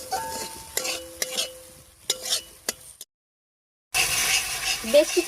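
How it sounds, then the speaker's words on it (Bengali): Chili, turmeric and cumin paste stirred and fried in a pan, sharp intermittent clinks and scrapes of a spoon over a low sizzle, a sudden gap of silence, then louder frying resumes. "এখানে আমি লঙ্কা হলুদ আর জিরা গুলিয়ে রেখেছিলাম এবার দিয়ে দিচ্ছি এবার খুব ভালো করে কষিয়ে নিচ্ছি"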